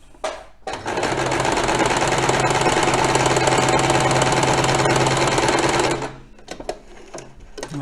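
A sewing machine runs a zigzag stitch on thin, slightly sweatshirt-like fabric in one fast, steady whirring burst of about five seconds, close and loud, starting and stopping abruptly with quiet handling before and after.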